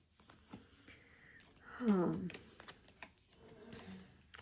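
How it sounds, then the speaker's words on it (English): Tarot cards are shuffled by hand in soft, papery riffles and patters, with a fuller burst in the middle, close-up and fairly quiet, with faint breaths and murmurs around them. "let me just shuffle them and see if I can take out that card"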